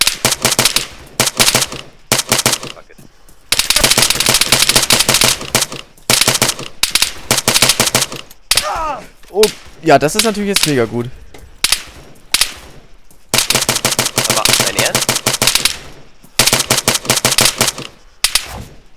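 Automatic gunfire in the video game Arma 3 comes in loud, rapid bursts separated by short gaps, with a few words of speech in one pause.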